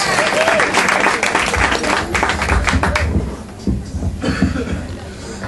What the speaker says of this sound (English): Clapping's good